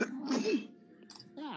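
A single sharp sneeze bursts out amid casual talk during a tabletop role-playing session, with a voice speaking briefly before and after it.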